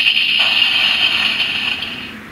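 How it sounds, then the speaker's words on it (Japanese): Electronic destruction effect from a Kamen Rider DX Another Watch toy, a bright, steady synthesized tone lasting about two seconds and fading slightly toward the end, heard alone with no talking. "続いてアナザーウォッチ破壊音。"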